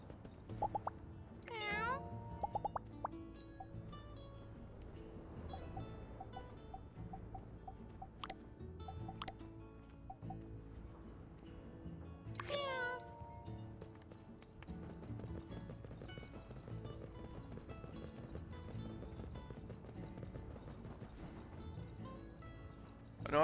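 Cat meows from the life-sim video game My Time at Sandrock, a couple of short rising calls heard over steady game music and ambience, fairly faint.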